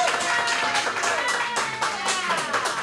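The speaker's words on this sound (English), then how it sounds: "Give him a big round of applause here." Audience applause at a live event in a pizza restaurant, a dense patter of many hands clapping at a steady level for a few seconds, with a voice faintly underneath.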